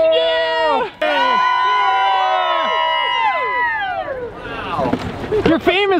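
Spectators at the Kenora Bass International fishing tournament weigh-in cheer. Loud sliding whoops and shouts fill the first seconds, then a burst of rougher crowd noise and wind follows.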